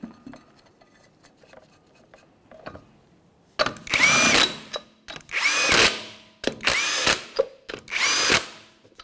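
An impact-style power tool spins lug nuts onto the front wheel studs of a 1994-1997 Honda Accord: four loud, close bursts of whirring and rattling, each a second or so long, after a quiet stretch.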